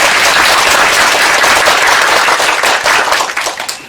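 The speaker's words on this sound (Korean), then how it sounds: "감사의 박수 부탁드리겠습니다" Applause from a church congregation after a special evening revival sermon at Daegu Dongsan Hospital, a dense steady wash of clapping that holds loud and then thins and tapers toward the end.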